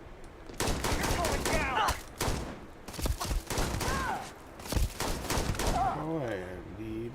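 NPCs open up with guns in the video game Starfield, short bursts of shots cutting in and out between loud shouted voices, mixed with a sci-fi weapon whine near the end.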